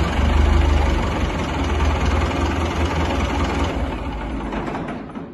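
A loud tractor engine idles and rumbles steadily with heavy low-end throb, close by and alone, easing slightly in level toward the end.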